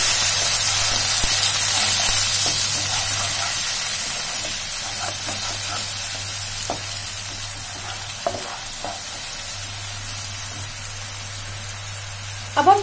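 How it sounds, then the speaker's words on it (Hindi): Onions sizzling and frying in a hot pan for a holiday thali, with a steady bright hiss throughout, occasional stirring scrapes and clicks, and a low constant hum beneath; no one talks. "अब हम डालेंगे इसमें प्याज और इसे एक मिनट तक भूनेंगे"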